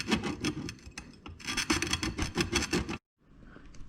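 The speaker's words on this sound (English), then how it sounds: "What I like to do is put a heavy score on, so I'll grab it and kind of go back and forth" A glass cutter scores a wine bottle with rapid back-and-forth rasping strokes, close and gritty. The scraping stops abruptly near the end, and fainter rubbing follows.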